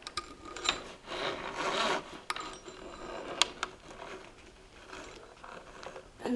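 A spring coil treadle belt on a treadle sewing machine rasps and rubs as it is worked up onto the belt guard, with soft scraping strokes, a few faint metallic clicks and a louder tick near the middle, all quiet and close.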